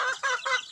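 Chickens being fed corn give a few quick, soft clucks in a short burst, close and alone.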